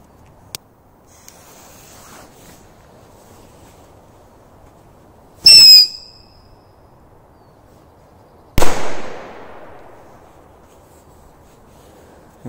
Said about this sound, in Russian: Корсар 4 с эффектом свист.